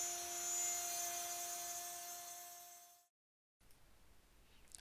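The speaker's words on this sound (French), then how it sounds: "nous usinons ici nos sections. C'est donc des planches de Polonia de 4 mm et notre fraise qui taille notre section" A CNC router mills 4 mm paulownia wood planks for a hollow wooden surfboard, giving a high, steady whine with sustained tones that fades out and cuts to near-silence, followed by faint background noise.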